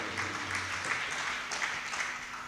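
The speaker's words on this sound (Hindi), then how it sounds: "एक बार उनके लिए जोरदार तालियां बजा करके स्वागत करेंगे" An audience at a Bhaktamar healing shivir gives hearty, steady applause welcoming Sameer, Monali and Jigar, a dense, even wash of clapping sounding somewhat distant.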